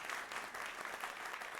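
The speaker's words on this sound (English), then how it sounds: "Give it a round of applause for CityGirl, y'all." An audience at a live event claps for two performers, a short burst of dense, even applause heard from a moderate distance.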